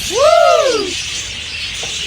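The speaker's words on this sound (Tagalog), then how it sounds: "Tingnan natin yung iba't ibang mga ibon dito." A single loud, rising-and-falling squealing call comes from a bird among birds for sale at the Souq Waqif bird market in Qatar, then fades into a soft, steady hiss of background market noise.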